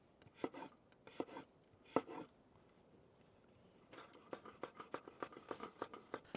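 A knife chops mushrooms on a board outdoors at a forest campsite, giving a few sharp isolated cuts early, a brief pause, then a quick steady run of crisp close chops.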